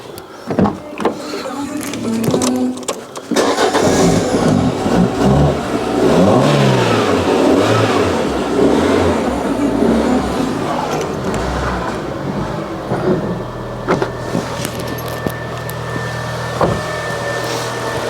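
Car engine cranking and catching after a TopDon JS1200 jump starter is used on a completely dead battery, a whirring crank bursting into a rising rev, then settling into a steady idle, loud and close.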